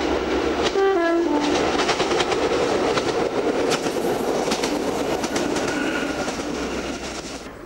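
A train on the Galloway line in South West Scotland sounds a short two-tone horn early on, then rumbles along with rhythmic wheel clatter and a steady rolling roar that slowly fades toward the end.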